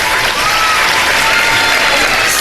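Loud, dense applause from a studio audience at a televised Iftar show, a thick continuous roar of clapping filling the whole stretch without a break.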